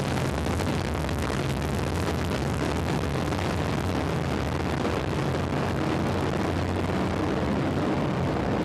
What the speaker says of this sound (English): We have ignition and liftoff of a Delta II rocket